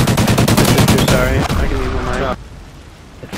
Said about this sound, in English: I'm shooting you!